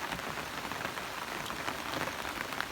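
Steady rain falls on a surface outside a building, a dense, even patter with scattered individual drops, continuous and fairly close throughout with no voices.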